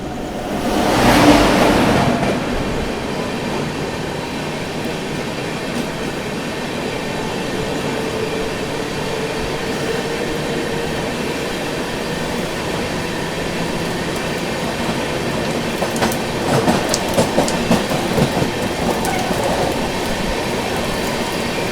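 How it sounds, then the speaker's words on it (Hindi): Gorakhpur Panvel Express rolling slowly past the Tamil Nadu Express, a steady, continuous rumble of wheels and carriages close by, with rattling clatter building toward the end. "सामने से गोरखपुर पनवेल एक्सप्रेस आ रही है, वो भी उतनी ही धीमी रफ्तार में आ रही है।"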